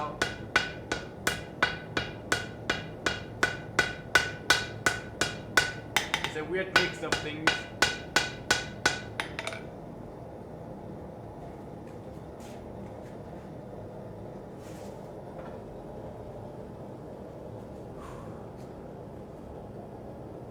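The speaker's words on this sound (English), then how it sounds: "Just hammering it, just forging it down." A hammer forges brass thin for a wand: about twenty evenly spaced, ringing metallic blows close up over ten seconds, then they stop, leaving quieter background with brief speech and a few faint knocks.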